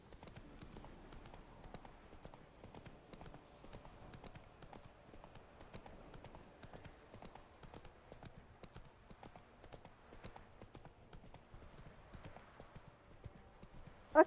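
Horse hooves clip-clopping steadily in The Witcher 3: Wild Hunt, a quiet, even rhythmic trot continuing throughout, fairly faint with no talking over it.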